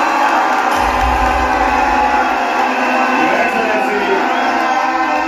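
Crowd noise at an outdoor political rally in Kiambu greeting Kenya's deputy president: sustained broad cheering and applause, with a low rumble swelling near the start, steady and loud throughout with no clear speech on top.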